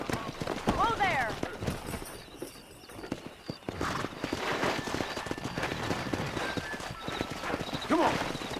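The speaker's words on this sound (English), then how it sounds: "That ranch hand said there's a pack of wild horses nearby." Horses in the Red Dead Redemption video game, hooves clip-clopping at a gallop with sharp neighs and whinnies near the start and end, mixed with game ambience and voices speaking.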